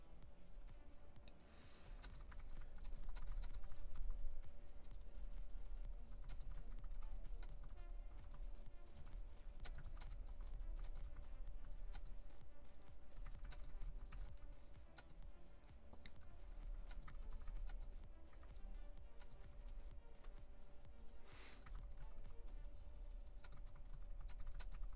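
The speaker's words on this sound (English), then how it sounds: "I like this keyboard, but it's not as quiet as it used to be" Steady typing on a computer keyboard that has grown noisier with age, a continuous run of soft, close clicks with a faint constant hum underneath.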